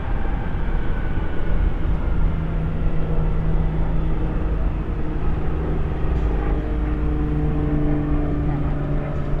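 A jet airliner passes right overhead at night at Dallas/Fort Worth International Airport. A loud, sustained engine roar rumbles throughout, and a voice talks briefly over it.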